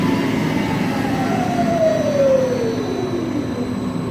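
A Smithy AutoMate CNC LT1440 lathe spindle winds down after replacement, a steady whine sliding gradually lower in pitch over a constant mechanical hum, with an air compressor running in the background.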